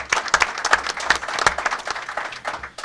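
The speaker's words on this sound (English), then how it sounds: "Why don't you give them all a round of applause." A small crowd at a college football bowl team announcement press conference gives a round of applause, scattered individual claps rather than a dense roar, moderately loud and close with no speech over it.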